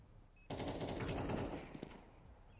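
Rapid automatic gunfire in Counter-Strike 2, a dense burst of shots starting abruptly and continuing for about two seconds, faint and slightly distant.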